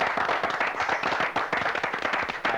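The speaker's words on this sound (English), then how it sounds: "Let's give her a big round of applause." An audience applauds a prize presenter with a dense, continuous wash of many hands clapping at full loudness throughout, with no talking.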